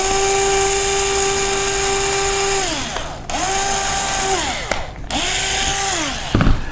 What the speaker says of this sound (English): And we'll go ahead and drill a couple of those.